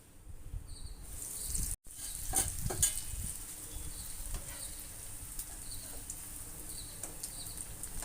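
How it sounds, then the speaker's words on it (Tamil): Bread slices sizzling and frying in hot oil while making bread halwa, a steady close crackle with occasional stirring clinks and a brief dropout partway through. "இதே மாதிரி எல்லா பிரெட்டையும் பொரிச்சு எடுத்துக்கலாம்"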